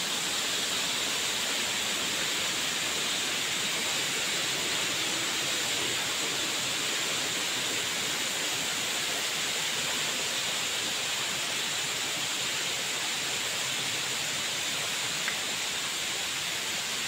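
Steady broadband rush of water crashing down at Curug Siklotok waterfall in Kaligesing, Purworejo, a constant near roar filling the whole clip with no talk over it.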